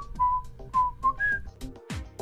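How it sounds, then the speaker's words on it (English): Someone whistles a short tune nearby, a few clear rising and falling notes with brief pauses between phrases. "submit a genetic sample, and whistle a tune"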